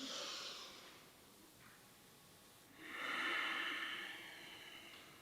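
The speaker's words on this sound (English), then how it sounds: "And you'll hear my breathing." Slow, deep breaths drawn through the nose as a pulmonary breathing exercise, one soft airy inhale-exhale and then a longer, louder one, close by and quiet.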